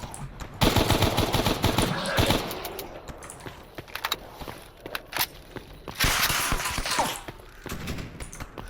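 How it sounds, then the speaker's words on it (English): Gunfire in the game Stalker Anomaly, with repeated loud bursts of automatic shots and scattered single cracks, mixed with footsteps and thuds across the clip. "You better not be shooting at me, I swear to God."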